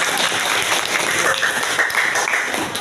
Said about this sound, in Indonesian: Oke, tepuk tangan Ibu Amanda ya.